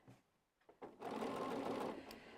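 Sewing machine stitching fabric strips in a home sewing room, starting with a few short bursts and then running in a steady, close, loud whir for about a second before easing off.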